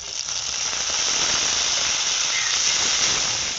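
Green chilli and ginger paste hit lightly fried onion in a pan for an aloo paneer curry, giving a loud, steady hiss of frying that holds evenly throughout with no talk.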